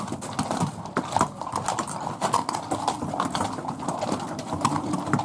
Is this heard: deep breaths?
no